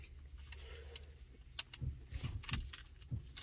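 Keys jingle and clink in several quick metallic bursts as a key goes into the ignition of a 2013 Ford Police Interceptor, heard up close inside the quiet car cabin.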